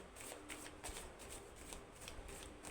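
A deck of goddess oracle cards being shuffled by hand, repeated soft riffling flutters in a quick rhythm, close and quiet.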